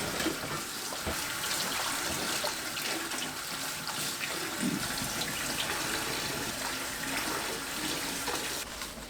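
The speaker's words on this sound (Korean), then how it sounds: "물에 3번 씻어주세요." Pumpkin leaves are washed by hand in running water, giving a steady splashing, trickling wash that continues evenly at moderate level throughout, with no talking.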